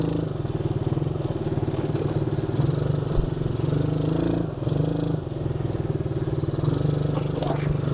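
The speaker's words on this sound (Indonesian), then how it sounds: "Jadi terdengar agak sedikit ngebas saat kalian mengendarai ATV Jeep 125 cc ini." A 125 cc ATV Jeep with a double-muffler racing exhaust runs nearby, its deep, bassy engine thrumming steadily with slight rises and a rattly edge for several seconds, no one talking.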